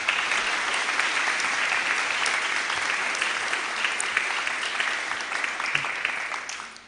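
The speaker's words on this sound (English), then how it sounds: "Please give them a round of applause." A school awards ceremony audience gives a warm round of applause, a thick continuous wash of clapping from many people that holds steady and then tapers off at the end.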